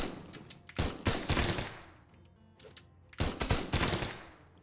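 Rapid bursts of blaster gunfire from the Brawlhalla fighting game, two clusters of quick shots separated by a quieter gap, loud and close with no voices.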